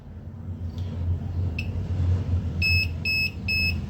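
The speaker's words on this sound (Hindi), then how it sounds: "जैसे ही 7 वोल्ट आए हैं इसने बीप शुरू कर दी है" The control board of a desi UPS kit gives a low-voltage warning: after a couple of faint chirps, three clear evenly spaced electronic beeps sound over a steady low hum.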